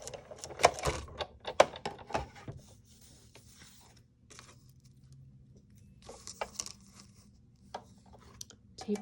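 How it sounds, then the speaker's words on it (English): Die cutting machine pressing a sentiment from white card stock, sparse clicks and rustles early, then a low mechanical hum with scattered taps, quiet and close, with no talk. "now we can die cut that sentiment with our coordinating die"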